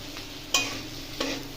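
Boiled potato frying in a pan with salt, turmeric and chilli powder, a steady soft sizzle broken by two sharp scraping stirs of a spatula, close and without talk.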